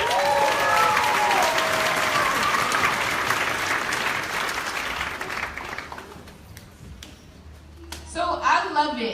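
Audience applause at a launch party, a loud, dense crowd clapping that gradually thins and fades out, with a voice beginning to speak near the end.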